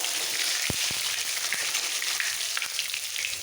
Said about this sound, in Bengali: সামান্য একটু রসুন দিয়ে দেবো সঙ্গে সঙ্গে মিক্স করে ফেলবো